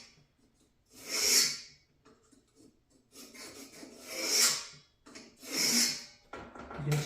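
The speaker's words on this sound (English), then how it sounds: "you can scribe a real nice line." Scribe dragged across sheet metal, three loud rasping scrapes spaced a couple of seconds apart, each swelling and fading, with quieter scratching between them and no talk.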